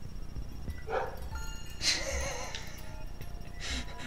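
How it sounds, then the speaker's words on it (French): A dog three floors down barks a few times, faint and distant, the yaps arriving in short bursts against a steady background hum. "Le chien il est 3 étages plus bas mais vous l'entendez quand même."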